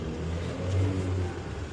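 An American car engine revs on an Istanbul street, a fairly faint, low mid-pitched rise and fall heard from some distance, with no talk.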